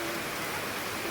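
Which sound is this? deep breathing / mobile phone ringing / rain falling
rain falling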